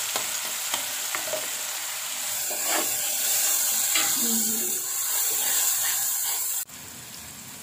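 Green bird's eye chilies stir-fry with ginger, galangal and bay leaves for a spicy tuna dish, a steady close sizzle with scattered stirring clicks and spatula scrapes, cutting off briefly near the end.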